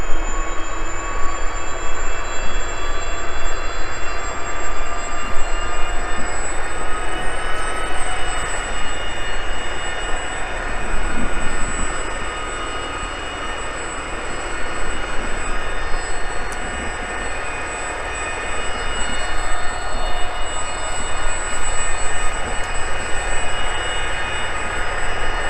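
A helicopter flies overhead above open fields, a loud, steady rotor drone with a high turbine whine that holds for the whole stretch and never fades, with no voices.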